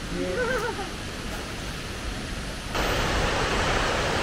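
Tumpak Sewu waterfall in Lumajang, East Java, a loud broad steady roar of falling water that swells louder near the end, with a faint voice briefly at the start.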